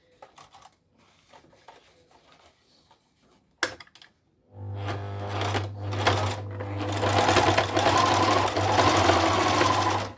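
A sewing machine stitches a washable fabric mask. A few soft clicks and a sharp knock come first, then the motor starts up and runs steadily and loudly, its rapid needle chatter continuing to the end.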